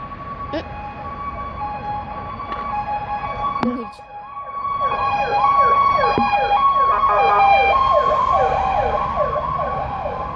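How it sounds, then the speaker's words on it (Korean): A wailing ambulance siren sweeps up and down repeatedly, growing louder as it approaches and passes nearby over steady traffic noise. "구급차가 지나갔는데요?"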